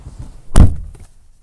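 A rear door of a 2014 Opel Meriva swings shut with a single solid, close thunk, followed by a brief quiet rattle as it settles.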